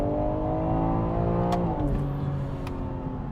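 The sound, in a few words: 2021 BMW M3 Competition sedan accelerating hard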